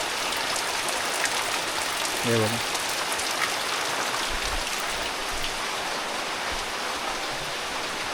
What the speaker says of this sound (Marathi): पाऊस बघताय का, पावसाचा जोर चांगला आहे